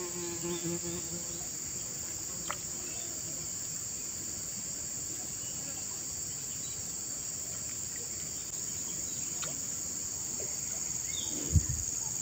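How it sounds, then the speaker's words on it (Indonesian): Near a riverside nest, a swarm of bees keeps up a continuous faint buzzing, with a constant high insect drone and occasional small clicks and knocks nearby. "Ngeri, lebahnya banyak."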